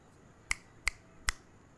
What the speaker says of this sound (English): What's wrong with me snapping my fingers,